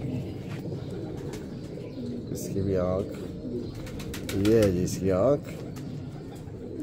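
Teddy pigeons coo in a few soft, rolling bursts close by, one early and two more later, while someone talks over them.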